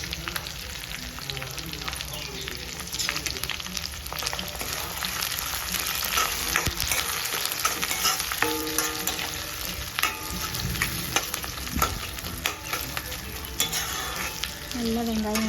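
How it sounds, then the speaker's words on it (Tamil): Onions fry in oil in a pan for a spicy prawn gravy, giving a continuous loud sizzle and crackle while a spatula scrapes and stirs through them, with no talking. "நல்லா வெங்காயம் வதங்கி வருதுங்க."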